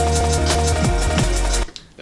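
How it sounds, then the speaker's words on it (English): Beat break glitch effect on a Denon X1800 mixer chopping a loud dance track into stuttering, rapidly repeated slices for about 1.6 seconds, then cutting abruptly to near silence. "This was done using the beat break effect on the X1800."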